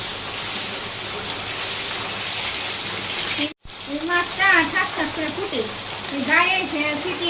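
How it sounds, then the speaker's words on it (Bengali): Fish frying in hot oil on a rooftop cooking fire, a steady broadband sizzle running throughout with a brief dropout midway, as a voice talks over the second half. "এই মাছটা ছাট ছাট করে ফুটে"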